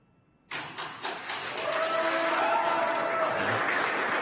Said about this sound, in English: And I don't know if you can hear the applause